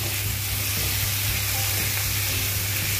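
Fenugreek greens with a little tomato frying in a pan with salt for a dhaba-style garlic methi dish, a steady close sizzle with faint crackles throughout and no talk.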